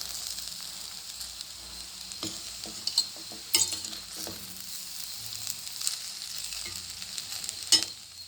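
A spoon stirs coriander rice mixed with fresh lemon juice in a pan, giving soft scraping and light sizzling with scattered clinks, fairly quiet and steady, with no talking.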